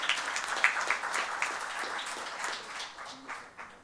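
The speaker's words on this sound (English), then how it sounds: "A big round of applause, ladies and gentlemen." An audience at a conference gives a round of applause, moderate and somewhat distant, a continuous patter of many hands fading slightly toward the end.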